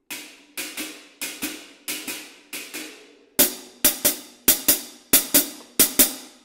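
Cumbia villera groove on a drum set, with the hand part cut down from three beats to two, giving about thirteen sharp, loud hits in an uneven repeating pattern that grows stronger halfway through.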